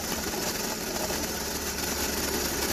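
A BMW petrol engine idles steadily with a faint gurgle from the crankcase ventilation, a constant close mechanical drone with no speech over it.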